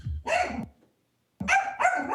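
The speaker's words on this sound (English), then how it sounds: "That's my rodent dog, so I apologize." A dog barks during a port commission meeting held remotely: one bark, a brief silence, then two more quick, fairly close barks with no talking over them.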